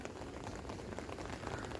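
Steady rain pours at a red, fast-flowing riverside during fishing, a dense continuous hiss of drops hitting surfaces with no talk.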